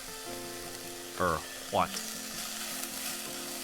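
Frying food sizzles steadily in a kitchen scene from the Summer Pockets Reflection Blue visual novel, a soft continuous crackle under background music, with a brief spoken word and two short swooping tones.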